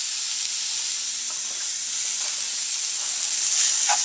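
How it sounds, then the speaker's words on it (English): Vegetables sizzle in a pan as Cajun seasoning is stirred in, a steady bright hiss close by with faint scrapes of a spoon, louder toward the end, and no voices. "And I'm going to stir that in with the vegetables."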